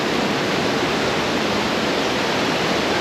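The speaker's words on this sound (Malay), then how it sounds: "Air yang daripada atas air bukit. Air bukit mengalir lagi." Hill stream water flows outdoors at Denai Kabus, filling a children's pool. A loud, continuous rushing wash of water fills the whole stretch, close and unbroken, with no voices.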